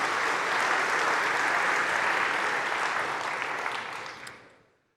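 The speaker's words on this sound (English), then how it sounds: "I really want to give all of you a huge round of applause" Keynote audience at a Power Platform conference breaks into broad, even applause from a large crowd, sustained at a steady level then fading away over the final second.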